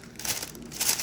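Carnival wet strength tissue paper crinkles with soft, close rustling and crackling in a few brief swells over about a second, fairly quiet and without any talking.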